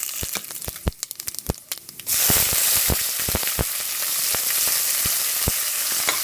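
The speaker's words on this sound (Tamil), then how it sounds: "இதில் கடுகு, ஜீரகம், கடலைப்பருப்பு, உளுத்தம்பருப்பு எல்லாத்தையும் போடுறேன்" Mustard seeds, cumin, chana dal and urad dal frying in hot oil as a tempering for banana-flower poriyal. Sharp scattered pops come first, then a loud, steady, close sizzle sets in with crackles still bursting through.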